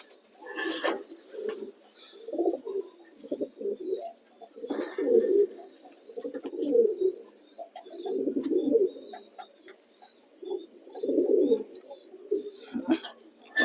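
Fantail pigeons, yellow-faced and white, coo in repeated low bursts while being caught by hand, with occasional sharp rustles and wing flaps nearby.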